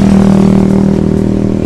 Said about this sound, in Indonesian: Ini mesin tidak saya matikan, kondisi masih hidup, ini nyala.